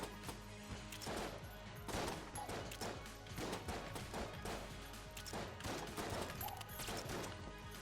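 Derringer shots in Enter the Gungeon fire as a steady series of quick, evenly spaced pops over busy game music and effects, moderately loud throughout.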